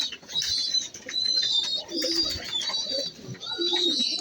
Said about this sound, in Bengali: তো ফ্রেন্ডস, আরও একটি কবুতর এখানে উড়াল দিয়ে আসলো।